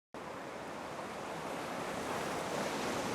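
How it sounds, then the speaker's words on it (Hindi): Sea waves wash against the shore in a steady, continuous roar mixed with wind, starting suddenly and growing slightly louder, with no talking. "पहली दफा मैं एक समंदर को इतना करीब से देख रही हूँ।"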